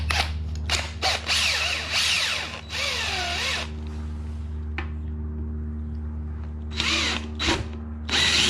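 A power drill with a hole saw cuts holes in a custom battery box for a Honda Ruckus scooter, in several loud, whining bursts of drilling separated by short pauses and handling noises.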